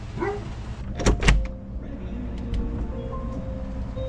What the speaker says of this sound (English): Gotta open a door now.